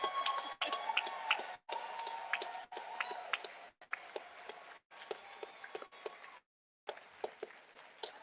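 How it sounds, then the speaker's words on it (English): Crowd at an outdoor voting rights rally in Mississippi clapping and cheering in bursts, with whoops and shouts between short gaps and a few loud individual claps up close. "I want y'all to keep clapping"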